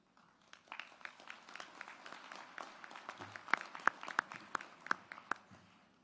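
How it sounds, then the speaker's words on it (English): Scattered applause at an award ceremony honouring a 2018 Walter O. Mason awardee, thin and fairly distant, building slightly with sharper individual claps toward the middle before easing off. "Let's give another round of applause for those 3 wonderful videos."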